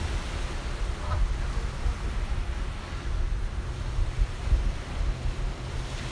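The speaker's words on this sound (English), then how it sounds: "let's just take another minute to enjoy those beautiful waves crashing on the beach" Waves crash and wash on a beach on a rainy day, a steady low roar with gentle surges. Wind buffets the microphone throughout.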